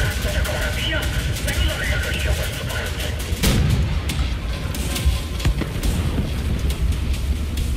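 Gunfire from enemy soldiers strikes the player in the first-person shooter Wolfenstein: The New Order, a dense run of sharp cracks and impacts over a constant roar of battle noise, with one heavy blast partway through.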